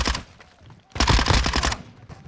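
Rapid bursts of automatic gunfire in the video game Modern Warfare 2 during a Spec Ops co-op mission, loud and close, with a short pause before a longer, denser volley.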